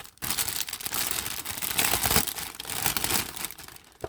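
Plastic and paper wrapping around a Dooney & Bourke handbag is pulled apart, giving a continuous loud crinkling and rustling close up that lasts about four seconds without a break, and no voice is heard over it.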